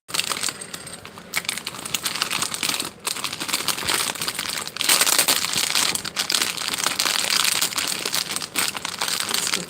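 Snack wrappers and crinkly basket grass being pushed around and arranged in an Easter gift basket, a continuous loud close crinkling and crushing that goes on without pause, with brief gaps and no talking.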